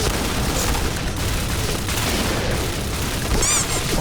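Shotgun fire in the first-person shooter game PB Kriss: a continuous busy mix of booming blasts and gunfire, loud throughout, with a brief whistling tone near the end.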